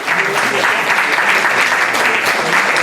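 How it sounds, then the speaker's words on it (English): A community meeting audience in a Hamtramck library applauds a welcomed guest, a loud, continuous wash of clapping filling the whole stretch. "Let's give him a round of applause for coming to Hamtramck this weekend"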